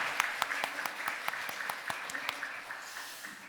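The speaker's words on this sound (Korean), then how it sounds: "하나님께 영광의 박수 올려드리겠습니다." A church congregation applauds at a Sunday worship service after a choir performance, a fairly faint and quick scattering of claps over about three seconds that thins out toward the end.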